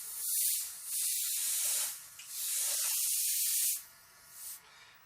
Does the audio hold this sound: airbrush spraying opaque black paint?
yes